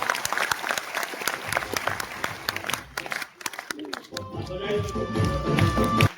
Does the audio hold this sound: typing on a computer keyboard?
no